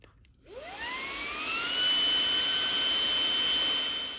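A cordless handheld vacuum on high speed whirs up from silence, its motor pitch rising quickly, then settles into a loud, steady high-pitched whine.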